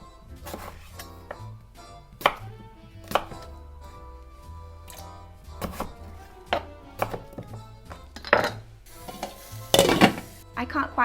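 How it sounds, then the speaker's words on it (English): Four potatoes being roughly chopped with a knife on a cutting board in a home kitchen, giving a steady series of close, sharp thunks at an uneven rhythm over a low background hum. "I'm just going to roughly chop up 4 potatoes here."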